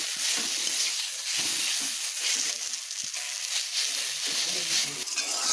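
Ground spice paste being stirred into frying potatoes and greens in a pan, giving a steady loud sizzle and hiss with soft stirring scrapes running underneath, close and continuous.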